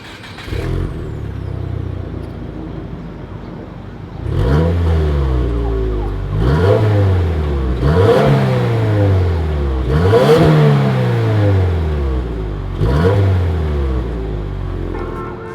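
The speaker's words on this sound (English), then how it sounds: "As always, here is that exhaust clip." A 2026 Subaru WRX engine revs hard several times in a row, each rev rising sharply then falling away, loud and close with a rumbling exhaust note.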